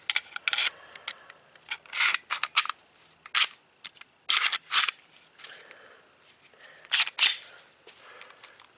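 Parts of a S&W M&P Metal M2.0 striker-fired pistol are fitted back together, producing a string of close, sharp metallic clicks, slides and scrapes separated by brief pauses.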